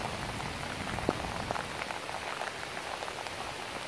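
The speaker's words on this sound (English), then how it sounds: "Wow. It's raining." Steady rain patters on surfaces outdoors on a Halloween evening, a continuous soft hiss with scattered sharper drops and no voices.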